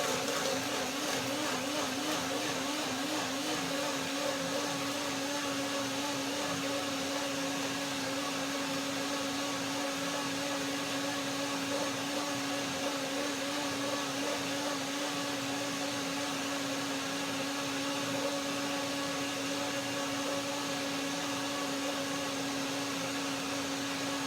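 A blender runs steadily for the whole stretch, blending an almond, banana and blueberry smoothie with a loud, continuous whirring motor drone and no talking.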